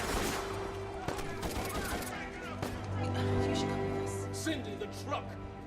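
Rapid bursts of gunfire crackle repeatedly over a steady low hum, with sharp individual shots standing out amid the continuous volley.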